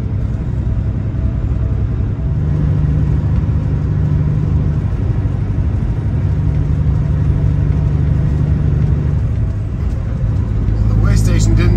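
A vehicle cruising on a highway at 60 miles an hour gives a steady, loud road and engine drone throughout, with a voice talking over it.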